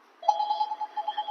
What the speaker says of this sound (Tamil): அதுக்குள்ள ஒரு ஃபோன் வந்து, சாரிங்க.